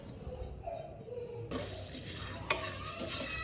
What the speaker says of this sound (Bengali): আমি প্রথমে ফ্রাই প্যানে গোটা গরম মশলাগুলোকে ভেজে নেব